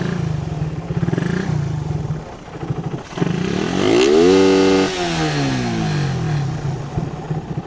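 A Raider 150 motorcycle engine with a racing CDI revs hard, climbing to a loud, sustained scream at its 12,000 RPM limiter, then falling back to a rough, burbling idle, close and alone.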